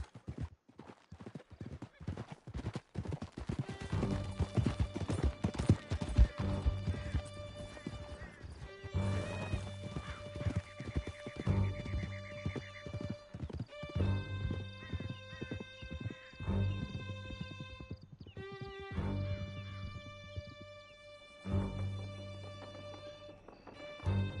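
A horse galloping in the video game Red Dead Redemption 2, with rapid clip-clop hoofbeats under a loud swelling orchestral score and a brief crash, all continuous and close.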